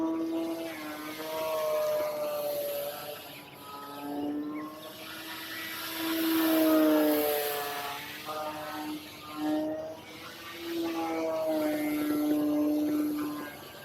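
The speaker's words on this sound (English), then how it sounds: "this RC airplane." A small E-Flite Night Timber X RC propeller airplane drones overhead, its buzzing electric motor pitch rising and falling as it passes closer and farther away, with no voices.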